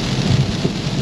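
Heavy rain falls steadily during a drive, loud and close, with a dense, constant hiss and low rumbling throughout and no voices.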